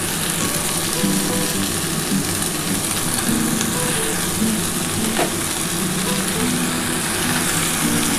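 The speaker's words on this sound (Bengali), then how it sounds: "এবার আমি পালং শাকটা দিয়ে দিচ্ছি।" Spinach hits a hot pan for a spice-free vegetarian palong shak ghonto, sizzling and frying loudly and continuously up close, with a steady crackling hiss and faint stirring.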